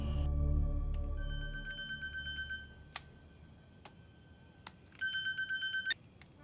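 A mobile phone rings in a scene from a Marathi horror movie: a low drone and deep tones fade out, then short electronic ringtone bursts and clicks sound, with a louder rapid ringing burst near the end.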